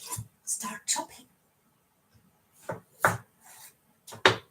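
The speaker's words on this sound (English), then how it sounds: "start chopping." Potatoes being chopped with a knife for mashed potatoes give close, crisp thuds on a board in short irregular bursts with quiet pauses between them.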